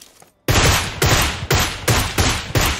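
Six heavy AWM sniper rifle shots in PUBG boom out at roughly half-second intervals, each loud and sharp with a short ringing tail, no voices over them.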